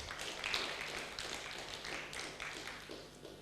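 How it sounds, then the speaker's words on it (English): A conference audience claps after a presentation at a cybersecurity gathering. The applause is faint and distant, a steady patter of many hands lasting throughout. "Please, another round of applause."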